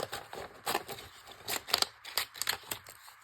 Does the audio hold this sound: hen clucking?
no